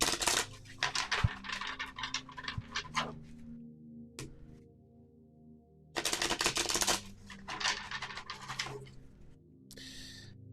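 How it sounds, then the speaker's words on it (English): A deck of tarot cards is shuffled in crisp, papery riffling bursts, with a long run near the start and another after a quiet pause, close and fairly loud, with no talking. "Let's shuffle these."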